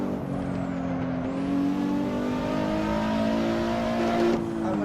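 A Nissan GTR Nismo engine in Assetto Corsa racing at Tsukuba pulls hard under acceleration, its steady tonal drone rising through a gear change with a sweeping whine, loud and close throughout.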